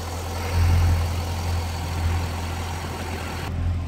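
A 2007 Chevrolet Corvette V8 idling in a clean engine bay gives a steady, close, low rumble with slight surges. It is alone, with no talk.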